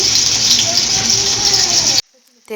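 Dense, steady sizzle of taro stolons frying in hot oil with mustard paste, loud and close for two seconds before cutting off abruptly into near silence with a faint voice.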